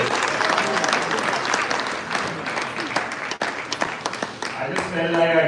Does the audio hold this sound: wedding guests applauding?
yes